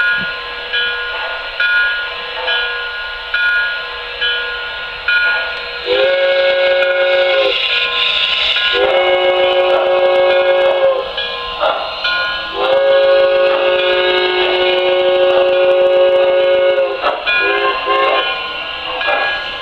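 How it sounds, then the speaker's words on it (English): A standard gauge Pennsylvania Railroad 384 model electric freight train pulls out with a steady rumbling hum while a whistle-like horn sounds in several long blasts, loud and close. "And we'll go ahead and pull this train out."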